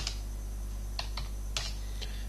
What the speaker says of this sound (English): at any point with Dragon Medical, you can override by typing.